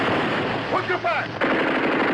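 Rapid machine-gun fire rattles continuously through a film battle scene, a dense, loud, sustained clatter with a shouted voice breaking through briefly partway.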